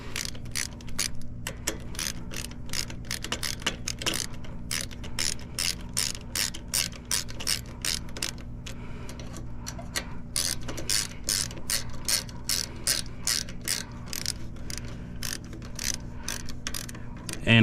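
A ratchet wrench with a 10mm socket clicks in fast, steady bursts of turns while working on the carburetor of a Craftsman LT1500 riding mower, close and loud with a low steady hum beneath.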